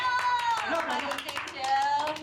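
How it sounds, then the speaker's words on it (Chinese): A small office group claps to welcome a colleague, scattered hand claps sounding under overlapping talk and a raised voice. "掌声在哪里？"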